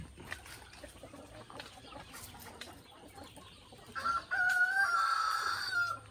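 Rhode Island chickens on a small farm, a rooster's crow rising clearly near the end over a steady background of clucking fowl.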